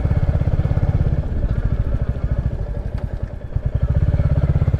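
A motorbike rides along a rural road past freshly planted fields, its engine throbbing in a quick, steady low pulse close to the microphone, with no voices.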